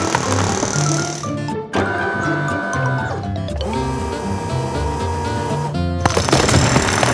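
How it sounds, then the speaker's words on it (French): An excavator's hydraulic hammer pounds hardened cement around an overturned concrete mixer, loud rapid hammering in bursts broken by short pauses, over a busy mix of machine noise and clanks. "La pelleteuse a brisé le ciment avec son marteau-piqueur."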